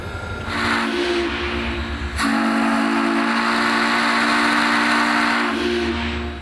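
A loud, sustained whistle from Florida East Coast steam locomotive no. 148 sounds for several seconds, with a brief break in the middle, over a steady background hiss.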